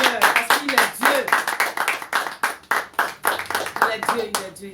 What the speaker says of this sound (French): Est-ce qu'on peut acclamer très fort le roi de Dieu?